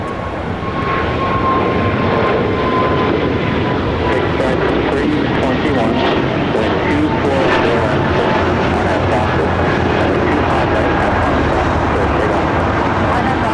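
A Breeze Airways airliner takes off on runway 25R at LAX, its jet engines a loud, continuous roaring rush that fills the whole stretch steadily, with a faint high whine running underneath.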